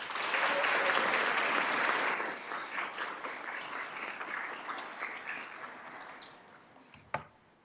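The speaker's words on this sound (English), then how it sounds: "So let's give all of them a round of applause" Audience applause honoring students at a school district governing board meeting, starting full and dense, then thinning into scattered claps that fade, with one sharp knock near the end.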